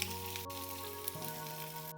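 Green chili, onion and curry leaves sauté in coconut oil in a pan, a steady soft sizzle with a faint crackle, no voices.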